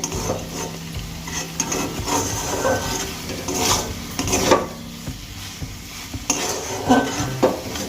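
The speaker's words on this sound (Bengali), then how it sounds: "এবার আমি শাক ভাজাটা একটা বাটিতে তুলে নেব।" Garlic-fried stem amaranth greens are scooped from a pan into a bowl, with a run of close metal scrapes, rubs and clinks of a spatula against cookware in uneven bursts.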